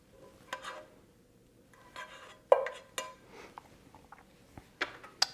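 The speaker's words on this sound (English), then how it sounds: "Then give everything a big stir to incorporate." Drained spaghetti is stirred into puttanesca sauce in a pan. A few scattered scrapes and clinks of a utensil against the pan come through with quiet gaps between them.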